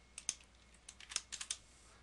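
Light clicks of a computer keyboard being typed on, a few quiet scattered keystrokes with a short burst of quicker taps near the end, close and faint, no speech.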